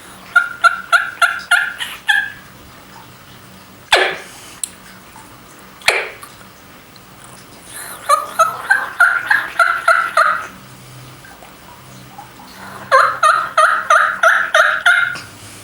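Turkey call imitating hens and gobblers, played in three series of rapid yelping notes, each a run of about seven to nine sharp rising calls, separated by pauses with two loud clicks between them.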